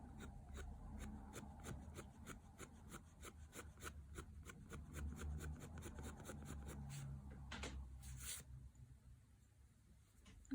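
Pencil edges of a conch shell drawing being rubbed out on paper, a steady run of quick scrubbing strokes close up, continuing for several seconds and then stopping.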